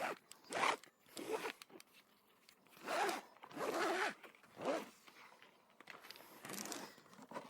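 Ratchet strap being cranked to tie down a lid, a series of separate rasping, zipper-like ratchet strokes at close range, each about half a second long, with short gaps between them.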